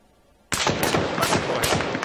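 Rapid automatic gunfire in the ArmA 3 military shooter, a sudden loud burst of close shots starting after a quiet moment and continuing as a dense, crackling volley with repeated sharp reports.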